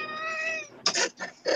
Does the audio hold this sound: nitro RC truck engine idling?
no